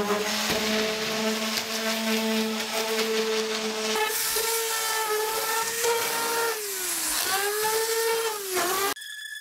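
Power sander running over a farm table with 220-grit paper, a steady whining motor drone with bright overtones that bends in pitch as pressure changes, close and continuous, cutting off abruptly near the end.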